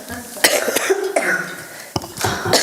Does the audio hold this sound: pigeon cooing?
no